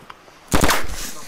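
A single loud gunshot in DayZ breaks a quiet moment, a sharp close crack followed by a short rattling tail and echo that fades over the next second.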